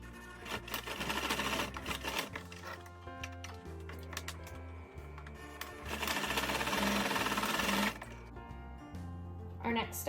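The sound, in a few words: sewing machine stitching medical cap fabric pieces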